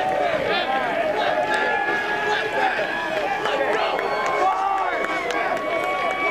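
Crowd noise fills a college lacrosse game, Utah Utes against BYU, with a steady murmur of many voices and scattered cheering throughout, while a PA announcer's amplified voice carries over it.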